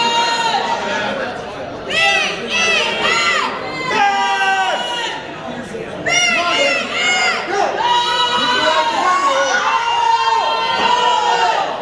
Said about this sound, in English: Ben Shiro with his usual cheering section